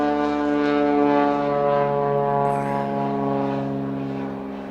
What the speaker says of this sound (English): let the airplane go by